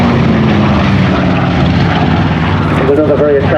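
Piston-engined warbirds, including a B-25 bomber and a DC-6 airliner, drone overhead at a Duxford D-Day airshow, a loud continuous propeller roar with a commentator talking over it.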